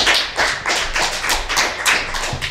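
A comedy club audience applauds a stand-up comedian, Donald Gibson, with a burst of close, rapid, uneven clapping that keeps going steadily for a few seconds with no voices over it.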